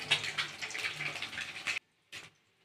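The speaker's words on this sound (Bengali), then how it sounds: "দেখো যে সিমের জলটা আমি ফেলে দিচ্ছি" Cooking water is poured off boiled broad beans in a continuous splashing stream that stops abruptly, followed by a short final gush and drips.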